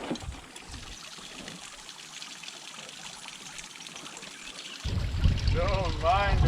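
Spring water wells up from an aquifer with a soft, continuous trickle and splash, then grows louder and closer in the last seconds while a person speaks over it.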